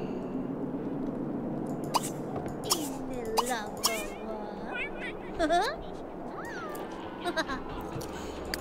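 A ghost cat in The Sims 3 gives several short, rising game meows, scattered across the stretch and mixed in with someone talking over a low background hum.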